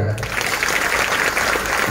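Audience applause at a Shri Shiv Mahapuran katha religious discourse: a dense, steady wash of many hands clapping together at a constant loud level for the full stretch, with no speech over it.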